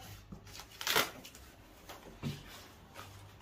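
Cardboard side panel pulled off the packaging of a Yamaha PSR-E473 keyboard during unboxing, a soft papery scrape and rustle with one louder tearing swipe, then lighter scuffs, close and fairly quiet.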